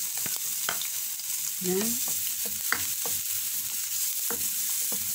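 Garlic sautés in a pan for pork and bean pochero, giving a steady, close sizzle broken by scraping stirs. A voice speaks briefly.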